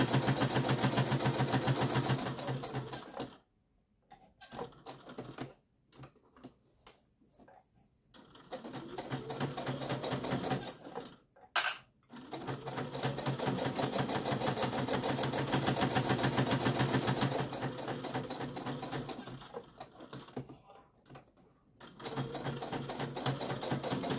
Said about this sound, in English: leave the needle down, lift up your foot, turn it, put a foot back down,